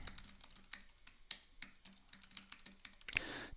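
Typing on a computer keyboard while setting up a Google Plus profile, with light irregular key taps in short bursts, close and quiet.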